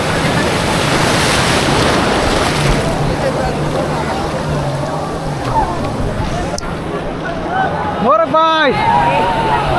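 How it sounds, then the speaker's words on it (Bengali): Sea waves at Cox's Bazar slap against a small boat, a continuous broadband wash with wind noise on the microphone, while people talk and shout excitedly over it throughout. "এই ঢেউয়ের বাড়ি খাইতে মজা লাগে বিশ্বাস করেন"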